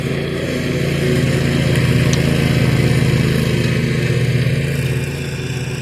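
A Husqvarna zero-turn lawn mower runs steadily close by while cutting a lawn in fall, its engine giving a loud, continuous drone with a low harmonic hum that swells slightly and then holds. No one talks over it.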